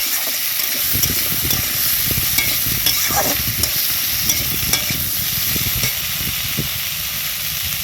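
Potatoes and thickly cut onion frying in a pan, giving a loud, steady sizzle and hiss with scraping stirring strokes throughout and no talking.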